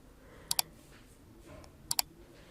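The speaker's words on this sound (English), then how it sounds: "and now clicking on save changes" Two quick pairs of sharp, close computer mouse clicks, a second or so apart, over faint room hiss as the save button is pressed in a WordPress settings page.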